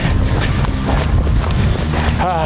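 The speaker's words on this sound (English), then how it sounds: "Man, the ears are crisp up here. With all the wind." Loud, steady wind roars and buffets against the microphone high on a Colorado mountain in a constant low rumble, with a brief voice at the very end.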